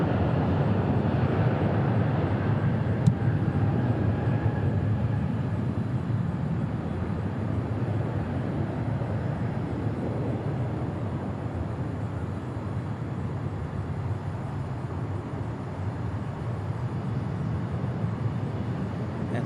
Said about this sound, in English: this A321, but it's fired up, rolling down the runway